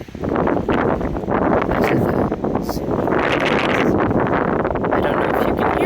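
Strong wind roars across open lava flows and bluffs, loudly buffeting the microphone in a constant heavy rush for several seconds.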